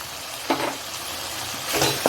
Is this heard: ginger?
yes